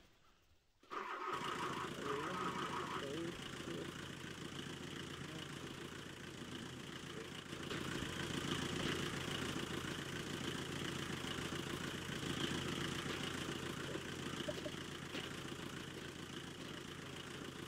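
A car engine cranks and catches after a short quiet moment, then settles into a steady, moderately loud idle that runs on evenly with no one speaking.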